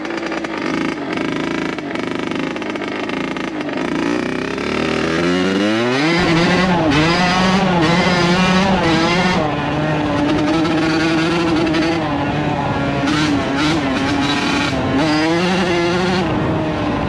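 A 1980s Kawasaki KX80 two-stroke dirt bike, a barn find, revs loud and close, climbing from a low idle into a sustained high-pitched buzzing wail that rises and dips through throttle changes.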